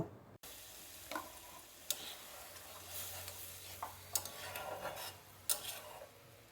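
Mushroom masala with cashew paste is stirred in a wok. Soft scraping strokes and a faint sizzle come close and quiet, with occasional sharper clinks.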